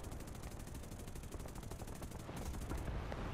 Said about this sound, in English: Bunch of 50 cals and it's hit.